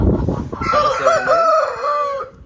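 An Aseel rooster crows loudly and close by, one long drawn-out call with rising and falling tones, ending in quiet.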